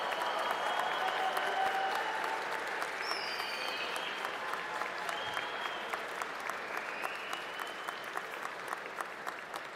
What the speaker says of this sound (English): Let's give a big warm round of applause to our bachelor's degree graduates.